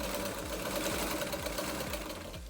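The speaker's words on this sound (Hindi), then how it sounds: "इसको इस तरह से एक साइड से इस तरह से फोल्ड करके आप इस पर सिलाई लगा लें।" Sewing machine running a steady zigzag stitch along the folded edge of a baby girl's skirt, a fast even mechanical chatter heard close up with no talk.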